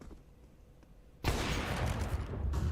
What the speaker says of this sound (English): Pistols galore.